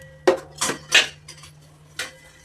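Metal pan handled on a stove for cooking vegetable pulao: five sharp clanks and scrapes at uneven intervals, close and fairly loud, with a faint steady hum underneath.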